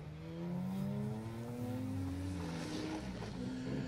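A BMW rally car races on an asphalt stage at Cheviot Stages, passing a Mitsubishi; its engine drones steadily with rising pitch as it revs, heard moderately distant and alone.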